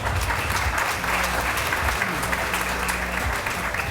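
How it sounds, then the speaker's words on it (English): An audience claps steadily throughout, a dense wash of applause at an even volume with no pause. "I'm really glad you applauded right there"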